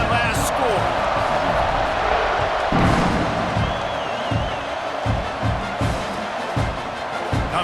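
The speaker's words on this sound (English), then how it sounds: "this crowd is buzzing after that last score" A stadium crowd in the EA Sports College Football 26 video game buzzes with a dense, continuous roar and scattered cheers, heard under a commentator's steady talk.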